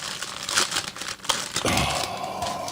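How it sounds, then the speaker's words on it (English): Panera brownie being unwrapped, a crinkling paper or plastic wrapper rustled and crumpled up close in short bursts, getting busier toward the end, with no talking. "Open up the brownie already."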